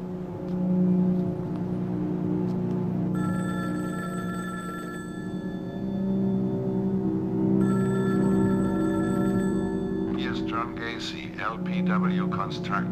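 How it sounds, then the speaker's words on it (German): An electronic office telephone rings in two long repeated bursts, clear and steady above a low hum, before a higher chirping tone takes over near the end. "Sicherheitshalber rufe ich nochmal bei Gacy an."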